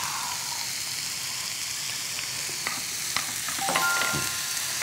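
Chopped tomato tumbling into a hot frying pan with onion and minced celery, a steady broadband sizzle with a few sharp clicks and a brief surge of hiss near the end, moderately close.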